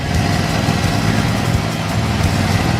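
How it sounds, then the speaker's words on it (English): A steady engine drones without pause from an engine-driven welder generator, a dense continuous rumble with no voices over it. "It's good that the engine drive is still running"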